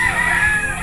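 A gamefowl rooster crows loud and close on a game farm, one brief sustained call.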